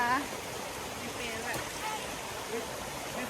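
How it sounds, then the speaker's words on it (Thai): Forest waterfall giving a steady, soft rushing wash of water at moderate distance, with a voice speaking briefly over it. "นี่ค่ะ น้ำตก"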